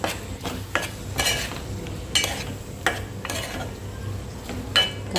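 Chili powder being stirred into chicken curry in a pan, with a faint sizzle underneath and repeated spoon scrapes and clinks against the metal in an uneven rhythm.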